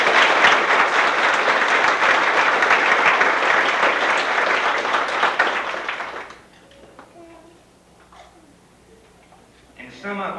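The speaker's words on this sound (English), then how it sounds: "I'd like to give another round of applause to Kathy" Audience applause for Kathy at an evening ceremony, a dense, sustained round of clapping from a large crowd that fades out after about six seconds, followed by quiet room noise and faint sounds.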